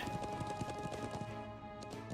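Horse hooves clip-clop at a steady galloping rhythm in the video game Trails of Cold Steel 2, close and continuous over game music.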